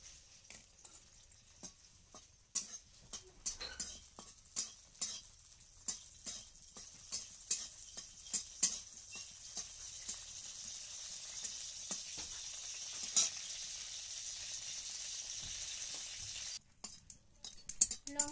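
Dried red chillies fry in hot oil for a village Bengali dish, a steady sizzle carrying sharp clicks and clinks of a spatula stirring against the pan, continuing without a break and without any voices.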